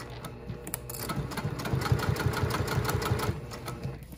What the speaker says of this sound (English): And we're going to sew right down the edge using a